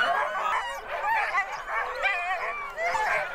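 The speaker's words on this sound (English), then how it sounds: "the dogs know what is coming. They're working themselves into a frenzy." Sled dogs bark, yip and whimper excitedly before a race, a dense, overlapping chorus of high-pitched cries heard at moderate distance with no speech over it.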